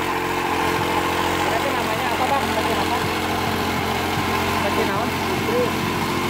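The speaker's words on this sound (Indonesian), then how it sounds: "Ini memadatkan jalan sebelum diaspal." A road compactor machine packs the road surface before it is asphalted, its engine droning loudly and steadily throughout, with a voice faintly audible over it.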